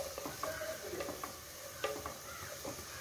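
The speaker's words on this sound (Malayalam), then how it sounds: "നന്നായി ഇളക്കി കൊടുക്കാം." Restaurant-style fried rice gets stirred in a hot pan with a quiet background sizzle. Irregular metallic scrapes and clinks of the utensil against the pan come through close up, without any voices.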